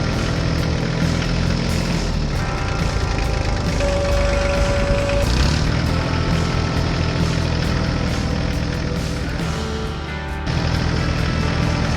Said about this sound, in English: The tractor moved across the farm toward the field where a smaller tractor was stuck.